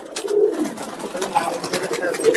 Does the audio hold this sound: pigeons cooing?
yes